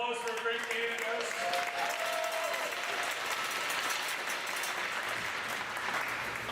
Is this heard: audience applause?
yes